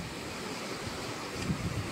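Sea waves wash at a beach in Boracay, a continuous broadband rush of surf mixed with wind noise on the microphone, fairly even, with a slight swell near the end.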